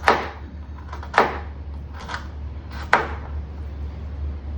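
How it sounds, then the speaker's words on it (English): Carrots sliced thin with a knife on a cutting board, four sharp separate chops about a second apart, close and clear over a low hum. "these are the carrots which I will cut also, skin very thin slices"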